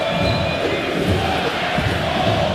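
Orlando City stadium crowd roaring and appealing for a handball against Jordi Alba in a soccer match against Inter Miami, a loud, sustained swell of massed voices with no single speaker standing out.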